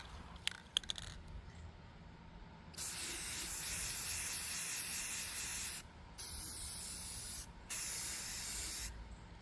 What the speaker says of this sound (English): Then bring it outside and spray on some triple thick glaze